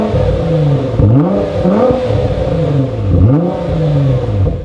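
Nissan GT-R with a new loud mid-pipe and cat-back exhaust, revving hard in repeated swells that climb and drop roughly every two seconds, a loud, close and throaty engine note with no talking.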